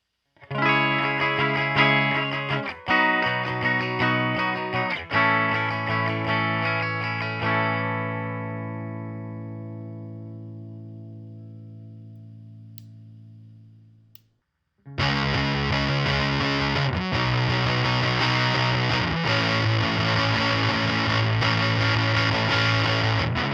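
Heavily distorted electric guitar chords through a diode hard-clipping distortion, harsh and saturated, strummed and left to ring out, then a louder distorted riff kicks in and plays on.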